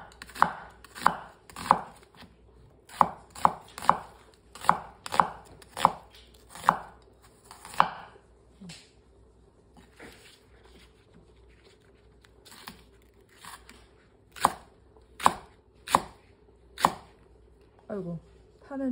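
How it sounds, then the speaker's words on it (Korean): Sharp knife chops on a cutting board through green onions, cut thick, quick bursts of steady rhythmic strokes separated by short pauses, close and clear, with no talking. "파는 조금 얇게 썰어야 되는데. 완전 크게 썰었네"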